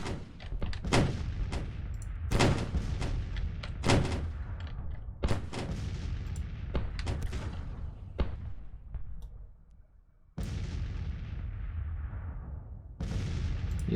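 Cannon artillery booms repeatedly during a Civil War battle in the video game Grand Tactician: The Civil War, sharp loud blasts in an irregular barrage, each with a rolling tail, some overlapping, and a short lull before firing resumes.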